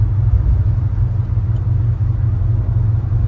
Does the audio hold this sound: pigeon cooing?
no